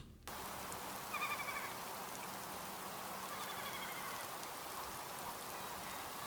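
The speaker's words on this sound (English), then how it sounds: "Starting off with some nice organic rain and birds." Field-recorded rain ambience with birds, a dense steady hiss of rainfall on surfaces with a few faint distant bird calls briefly rising above it, no voices.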